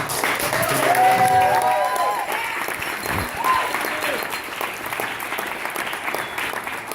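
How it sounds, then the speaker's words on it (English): Wedding guests give the bride and groom a big round of applause, dense clapping from a room full of people that swells early and then slowly thins out, with a few voices rising over it. "So just one more final big round of applause for Dom and Amy."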